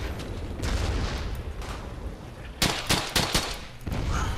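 Gunfire in the World War II shooter game Brothers in Arms: Hell's Highway comes as a dense run of muffled shots and rumbling, then a quick cluster of sharp, loud bursts in the middle.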